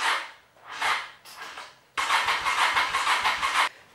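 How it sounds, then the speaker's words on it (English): A 1985 Honda Shadow motorcycle engine cranks on its electric starter in several short bursts, then in one longer, steady churning run of rhythmic pulses, loud and close without any talk. "Hit the starter, and it cranks."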